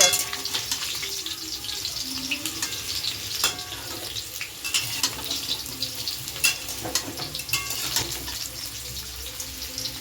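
Potatoes frying in oil coated with spices, salt and turmeric, a loud continuous close sizzle with occasional clatter of stirring.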